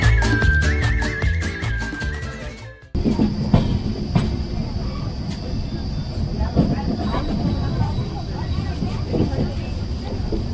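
The 13009 Dun Express passenger train rumbles along steadily after a burst of music, with a constant clattering roar and a thin high whine heard from on board.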